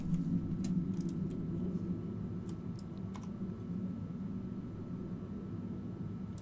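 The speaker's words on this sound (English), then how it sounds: "That's a very noisy plane, isn't it?" Noisy airplane passing overhead, a continuous low rumbling drone under scattered sharp clicks and taps from nearby handling of tabletop pieces, with no talk.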